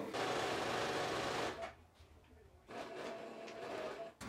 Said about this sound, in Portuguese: Eu vou costurar só até aqui no rumo do alfinete, mais ou menos